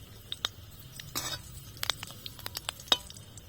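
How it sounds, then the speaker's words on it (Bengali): Curry leaves dropped into hot oil sizzle with a soft steady hiss, light pops and crackles, and a few spoon clinks against the pan, all close and quiet. "তেলটা ভালোভাবে গরম হয়ে গেছে। এখন দেব কারি পাতা"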